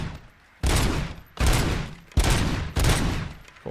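Gunfire in the Robocop: Rogue City video game: four loud, separate bursts of shots, each fading before the next.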